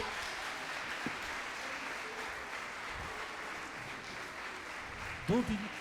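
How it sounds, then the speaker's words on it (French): A school audience at a travel-journal award ceremony applauds in a steady, even patter of many hands, moderately distant, with a voice speaking briefly near the end. "Allez, on les applaudit. Un grand bravo."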